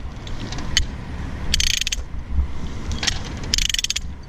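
A ratcheting chain binder is loosened by hand, giving bursts of sharp metallic clicks from the ratchet and pawl in a few separate runs, fairly close over a quiet background.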